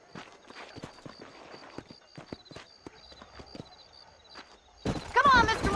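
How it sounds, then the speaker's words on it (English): Horses' hooves clip-clop at a steady walking pace in the Western video game Red Dead Redemption, clear and close, ending in a louder, busier burst of sound. "These are fine horses."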